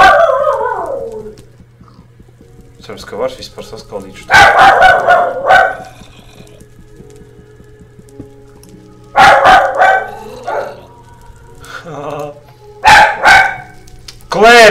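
A dog barks in sharp, loud bursts of several barks, in three separate bouts, near a person live-streaming Minecraft. Someone speaks between the bursts.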